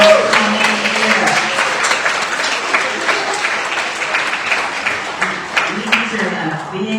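A congregation applauds the pledge drive helpers with sustained crowd clapping, a busy rattle of many hands throughout while voices and cheers mingle underneath.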